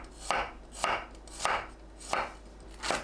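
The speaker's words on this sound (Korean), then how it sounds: "마늘을 편으로 썰어주세요." Knife slicing garlic on a cutting board for a tofu side dish, five crisp evenly spaced chops about half a second apart, close and clear with no talk.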